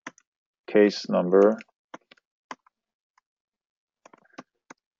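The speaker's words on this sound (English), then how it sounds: "typing a little too fast" Scattered clicks of computer keyboard keys come in short bursts across the quiet stretch, faint and close. A person speaks briefly before the typing.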